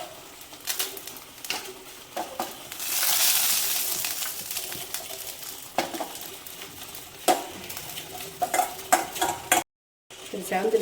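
Cashews and raisins frying in ghee as a spoon stirs them in a pan, with soft sizzling and scattered scraping clinks of utensil against metal, close and moderately quiet, with one brief dropout.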